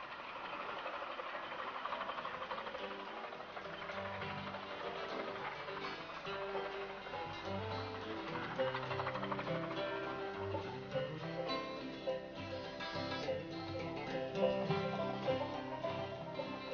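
Steam train of the Romney, Hythe & Dymchurch miniature railway on the shingle headland near the Dungeness lighthouse, a steady continuous rumble and clatter of running engine and wheels, moderately loud and unbroken throughout.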